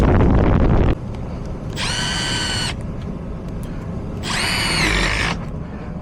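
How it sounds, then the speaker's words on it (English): A power drill used while replacing a Honeywell HVAC zone damper motor whines loudly in two bursts of about a second each, separated by a pause filled with steady background noise. "I have another drill that I use for stuff like this, but since I had this one here already, I just figured I'd use this"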